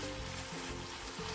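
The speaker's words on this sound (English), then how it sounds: "I'm going to add the onion. And saute it together shortly." Faint, steady sizzle of onion and long green onion sautéing with pork in a pan for tonjiru soup, a soft continuous crackle with no voices.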